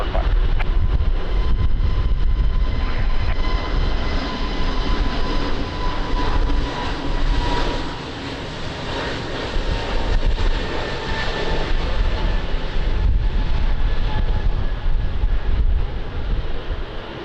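An airplane on final approach to Lisbon Airport in windy weather, its engines a loud, steady roar with a faint whine, mixed with wind rumble on the microphone and no voices.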